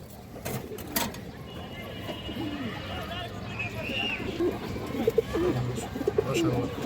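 Pigeons coo in short, low, repeated bursts near a female bird on sale among throat-marked, army and silver breeds, with someone talking over the calls and a busy background.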